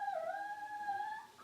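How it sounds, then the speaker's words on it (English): A dog whimpers and cries in its bed, one long drawn-out whining howl that holds steady and then tapers off, close and fairly loud, with no talk. "Please excuse the dog crying."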